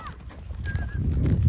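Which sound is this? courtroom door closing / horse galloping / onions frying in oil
horse galloping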